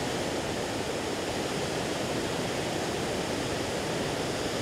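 A strong river current at the Dooars view point on the India–Bhutan border rushes past in a dense, continuous roar of water that stays loud and steady throughout, with no voices.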